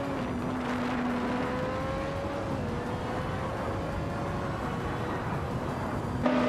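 AGSJ H23 racing car in a video game race, giving a sustained engine drone with a steady pitch that slowly rises and falls, loud and continuous, with a brief surge near the end.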